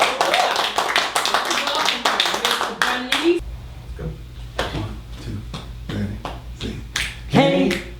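A small group claps hands in rhythm around a piano, sharp regular claps over singing and talk, starting loud and quick and then carrying on more loosely under voices.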